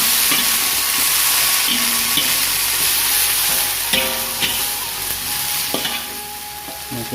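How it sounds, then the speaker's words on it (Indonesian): Papaya flowers and chopped papaya sizzle and crackle steadily in a hot pan while being stir-fried for a rumpu rampe vegetable dish, with occasional scrapes and clicks of a utensil stirring. "Masukkan bunga pepayanya, lalu kita tumis."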